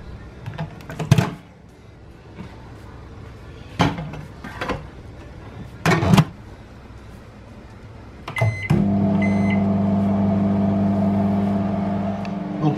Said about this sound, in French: je vais le mettre vite fait au micro-ondes durant 30 secondes